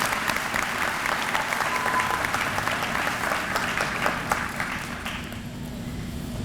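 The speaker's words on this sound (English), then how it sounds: "Please, once again, give her a round of applause and a gracious welcome home." Warm, continuous applause from a commencement ceremony audience, many hands clapping steadily at moderate distance, then gradually tapering and thinning toward the end.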